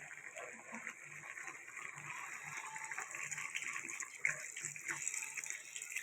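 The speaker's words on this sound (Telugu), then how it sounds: "ఇప్పుడు దీంట్లోకి నీళ్ళు పోసుకుందాం" Water pours steadily into a pot with a continuous splashing gush, fairly quiet, with faint background sounds beneath.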